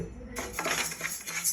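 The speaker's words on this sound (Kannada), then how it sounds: "ಈಗ ಉದ್ದಿನಬೇಳೆ ಹಾಕ್ಕೊಳ್ಳೋಣ." Dry urad dal is tipped into a pan for roasting, a quick rattling patter of lentils hitting metal that lasts about a second, close and fairly quiet.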